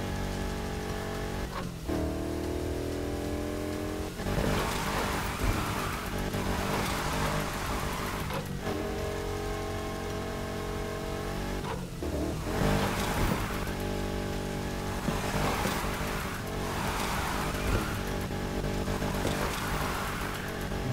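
A weak car engine straining through drifts in the video game Need for Speed Heat: a loud, sustained engine drone that repeatedly rises and falls in pitch with each slide, alongside hissing tyre and road noise.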